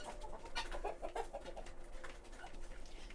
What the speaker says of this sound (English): Got the pretty chickens in here.